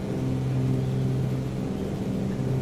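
Twin piston engines of a Cessna 414 idle steadily in Microsoft Flight Simulator, a continuous near, even drone with a low humming tone and no breaks, alone without voices.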